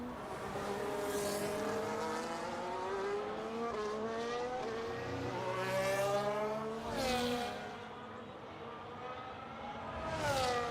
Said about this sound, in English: Skulk in the McLaren is out there about to start another flying lap